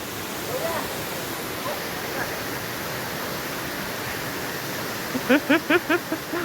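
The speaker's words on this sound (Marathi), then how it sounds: "हा धबधबा आहे मित्रांनो" Steady rushing roar of a waterfall at Chikhaldara, Amravati, broad and constant, with a voice speaking briefly near the end.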